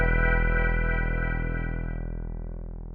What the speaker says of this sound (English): So yeah, Moogs, Hammond, and Taurus here.